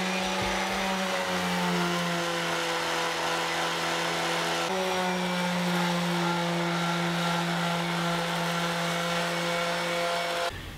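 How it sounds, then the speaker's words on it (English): A power sander whines steadily and loudly, close up, while the sides of pine crate pieces are smoothed, a continuous motor drone that changes pitch briefly about halfway through. "Now I'll just give all the sides a quick sanding."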